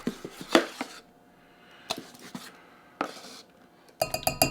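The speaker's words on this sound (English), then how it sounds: "Now to that, I'm going to add 4 tablespoons of cornstarch." Spoonfuls of cornstarch go into egg yolks in a liquid measuring cup, giving a series of short taps and scraping clinks, four separate bursts of spoon against glass with quiet pauses between them.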